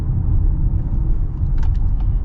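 A 2023 Acura RDX A-Spec rolls over road bumps, heard from inside the cabin as a steady low road and engine rumble with faint knocks and no rattles over a couple of seconds.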